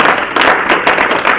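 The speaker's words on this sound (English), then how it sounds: "Let's give our panelists a round of applause and our keynote speaker a round of applause." Audience at a panel discussion and keynote event giving a round of applause, dense continuous clapping from many hands, loud and close, with no voices over it.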